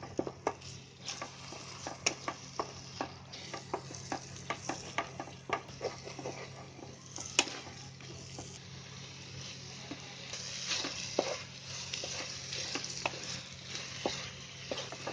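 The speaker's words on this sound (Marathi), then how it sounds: "हे सगळं मसाला फिरवून घ्यायचा. म्हणजे अंडी आहे ना त्याच्यामध्ये शिजायला पाहिजे" Close, rhythmic scraping of a spatula stirring egg and masala frying in a pan, with many sharp taps against the metal over a low steady sizzle that lasts the whole stretch.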